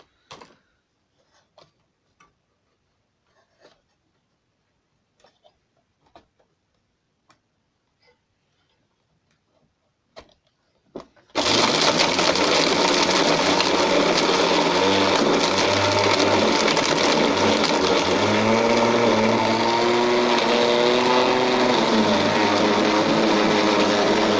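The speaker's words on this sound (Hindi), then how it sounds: "काफ़ी हैवी है, इससे आप बड़ी चीज़ें भी ग्राइंड कर सकते हैं।" A heavy homemade grinder machine starts up partway through and grinds steadily and loudly, its drone with shifting tones continuing to the end after a stretch of quiet ticking and small knocks.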